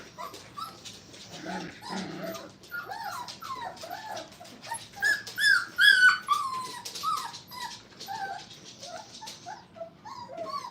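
A young puppy at a training kennel whimpers for attention, giving repeated close, high whines and short yips in uneven bursts that grow louder midway, with no talking.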